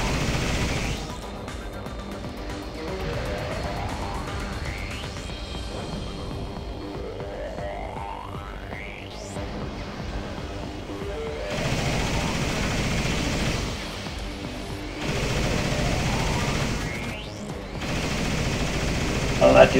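Bursts of gunfire in the action game Vanquish, with rapid shots and booms over sweeping electronic effects, loud and repeated throughout with a bit of background voice.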